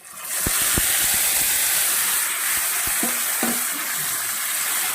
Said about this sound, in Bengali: তো এই পর্যায়ে আমি দিয়ে দেব সেদ্ধ করে রাখা বেতো শাকটা